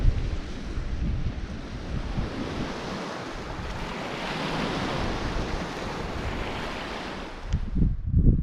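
Waves wash against the shore of a big lake under steady wind, a continuous rushing surf that stays loud and constant, with heavier gusts buffeting the microphone near the end.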